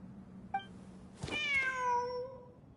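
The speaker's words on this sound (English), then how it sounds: "Wait, there it is! The cat!" A cat in the video game Genshin Impact gives one clear meow with a rising then falling pitch, preceded by a short chirp, close and alone over quiet background ambience.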